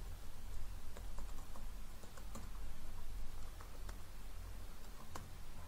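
Someone types on a computer keyboard during PHP coding work, producing irregular light clicks and key taps. The typing sounds faint and somewhat distant over a low steady background hum.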